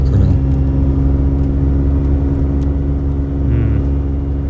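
Renault R5 Turbo II engine running steadily at close range, a continuous, loud mid-range drone with a slight dip near the end and no clear rise in revs, with no one talking over it.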